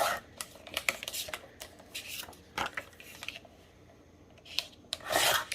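Paper scrap for a handmade spring tag being cut down, a run of quick, close rasping snips and rustles in uneven bursts, with short pauses between and a louder crisp flurry near the end.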